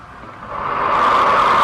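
A steady rushing airflow hiss at the entrance of a compressible-flow channel, picked up by a microphone there, swells over the first second and then holds at a loud, constant level, with no voices.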